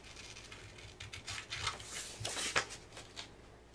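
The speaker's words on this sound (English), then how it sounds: "I'm going to take my scissors and I'm just going to round" Quiet, crisp snips and rustles of scissors cutting paper, close by and irregular, with small pauses between cuts.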